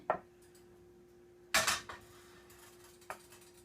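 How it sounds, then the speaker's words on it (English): A metal skillet set back down on a stove burner while cooking stuffed peppers, a faint knock followed by a louder clattering bump and a small clink, fairly close in a quiet kitchen. "And I'm going to put this skillet back on the heat"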